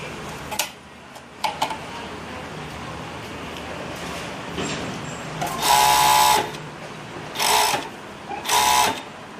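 An overlock serger stitching fabric runs in three loud bursts of rapid mechanical whirring, separated by pauses with faint ticking and handling noises nearby.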